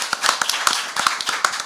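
An audience claps steadily and densely throughout, close and loud, with no voices over the applause.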